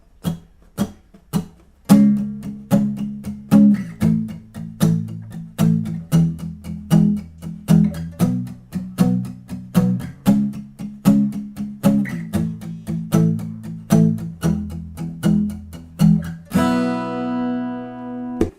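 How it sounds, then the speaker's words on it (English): Muted acoustic guitar strumming for the pre-chorus of a song, a steady run of short percussive chord strokes with a rhythmic pulse, played alone, ending on a ringing open chord. "The strumming pattern is going to be muted as well for this pre-chorus."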